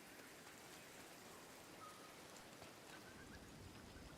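Rain falls in the video game Disney Dreamlight Valley, a soft, steady, even hiss of drops with no other sounds over it.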